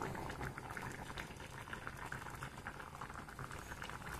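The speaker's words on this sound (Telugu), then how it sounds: "ఇంకా 2 నిమిషాలు ఉడికి మరి కొంచెం చల్లగా అయ్యేలాగా సరిపోతుంది ఈ గ్రేవీ" Gravy seasoned with coriander powder, garam masala and fresh coriander bubbles in a pan, a soft, continuous patter of small pops heard up close and quiet.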